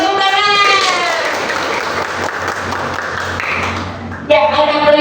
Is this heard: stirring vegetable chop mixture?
no